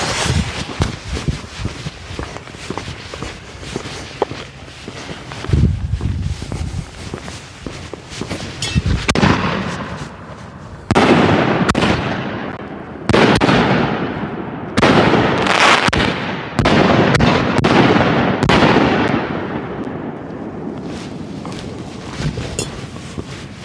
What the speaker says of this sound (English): Here we go with 6 of the Reaper shells by American HD.